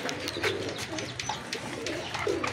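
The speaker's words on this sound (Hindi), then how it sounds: "दोस्तों कबूतर हमारे कर रहे हैं मस्ती है" Pigeons cooing close by, several soft throaty coos repeating in an uneven rhythm against a quiet background.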